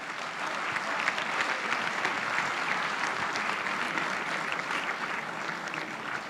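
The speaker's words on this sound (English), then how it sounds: "with a big round of applause." A crowd at a charity gala claps steadily in a sustained round of applause, dense and even from start to finish, with no voices standing out.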